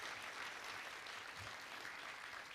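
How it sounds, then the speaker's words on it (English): Audience in a large event hall applauding the events staff at a regional civic gathering; dense, even clapping from many hands, continuous and fairly distant throughout. "Let's give the staff of the Alliance a huge round of applause."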